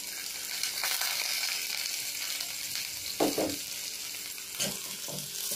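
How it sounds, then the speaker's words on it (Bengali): Sliced onions dropped into hot oil for an egg devil dish, frying with a continuous loud hiss and crackle, with a couple of short stirring scrapes and bursts partway through. "তেলটা গরম হয়ে গেছে, পেঁয়াজগুলো দিই।"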